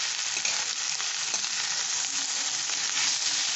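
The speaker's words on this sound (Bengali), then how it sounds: "আমি ডিম দিয়ে পরোটাগুলো ভেজে রাখি" Parathas frying with egg in a hot pan for egg tandoori kabab rolls, giving a dense, continuous hiss of oil at an even level with no talk over it.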